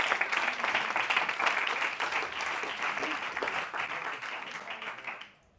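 Steady audience applause rings out for several seconds, dense and even, then cuts off abruptly at the end.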